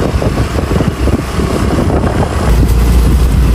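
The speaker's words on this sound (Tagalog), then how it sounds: "malakas pa rin po ang hangin ngayong umaga" Strong morning wind on an overgrown road near fishponds batters the microphone with loud, continuous low rumbling and gusty roaring that swells toward the end, with no voices.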